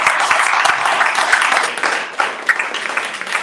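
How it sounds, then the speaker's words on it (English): A live meet-and-greet crowd claps in sustained, dense applause, loud and close, with a few sharper individual claps standing out near the end. "It's a round of applause for Acabado"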